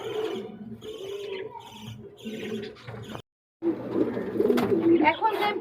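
A White King pigeon pair coos nearby in low, rolling bursts, broken by a brief silence before the cooing resumes more strongly.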